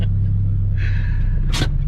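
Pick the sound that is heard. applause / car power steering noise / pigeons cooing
car power steering noise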